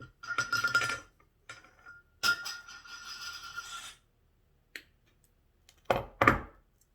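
Round nose pliers cutting and bending wire while making a witch bell, heard as a few sharp metallic clicks and snips with small jingling clinks in between, close and fairly quiet with pauses of silence.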